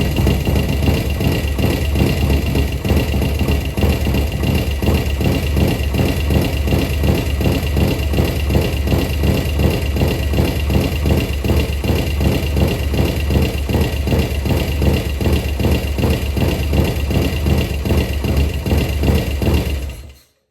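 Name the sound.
Harley Sportster flat track motorcycle engine starting and idling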